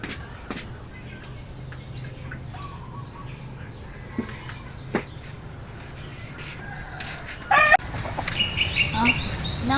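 Backyard chickens clucking and calling at intervals over a low outdoor background, with a brief wing flap or rustle near the end; the birds sound moderately close and there is no clear talk.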